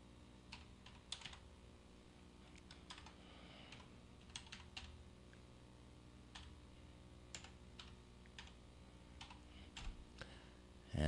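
Password being typed on a computer keyboard, a steady run of soft key clicks with irregular rhythm and a few louder taps, close and alone over a faint background hum.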